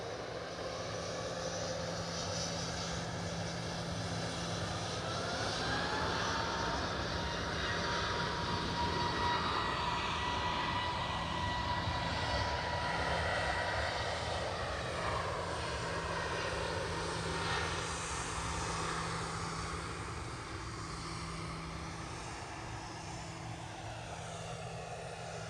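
Fixed-wing airliner on final approach at Edinburgh Airport, a steady engine roar that slowly swells and shifts in pitch as it passes, heard from a distance with no talk.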